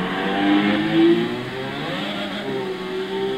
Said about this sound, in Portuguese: o belo ronco do V6 biturbo